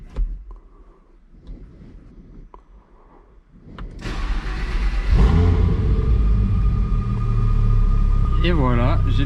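A 1010 hp hypercar prototype is started: quiet clicks and faint whirring, then the engine fires and settles into a loud, deep idle rumble with a rising whine near the end.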